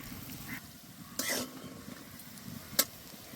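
Beto shaak, bathua greens, frying in a pan with a soft continuous sizzle, broken by a couple of short scraping stirs and a sharp utensil clink near the end, heard up close.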